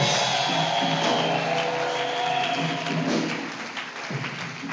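A congregation at an open-air crusade claps and cheers steadily, dense sustained applause filling the space before tapering slightly toward the end.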